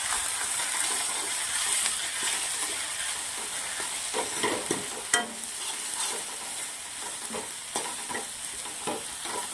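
Red chili powder, Kashmiri chili powder and turmeric roast in hot oil in a pan for a ratalu paneer bhurji, giving a steady close sizzle with scraping stirs and occasional clinks from the spoon against the pan, with no talk.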